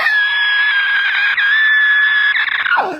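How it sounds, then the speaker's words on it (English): Screaming eagle sound effect played from a novelty device on a grill shelf, one long loud piercing cry held steady for nearly three seconds before bending downward and fading out. "Y'all hear that Screaming Eagle just flew by?"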